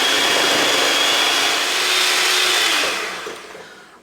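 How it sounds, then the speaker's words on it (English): A countertop blender whirs on high speed through a marshmallow mixture, a loud, steady broadband roar that holds for several seconds, then eases down and fades before a brief knock at the end. "I'm going to blend it on a high speed with my blender."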